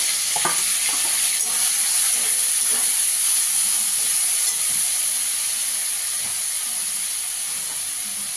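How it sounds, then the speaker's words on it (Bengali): Grated onion sizzles in a hot pan with a steady, loud hiss, broken by occasional scrapes and clinks of stirring. "পেঁয়াজটাকে একটু লাল করে ভেজে নেব।"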